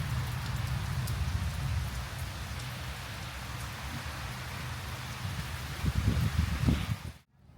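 Steady rain falls on a roadside during a wet bicycle tour across Thailand, a dense even hiss that stays loud throughout, with heavier spattering bursts near the end before it cuts off abruptly.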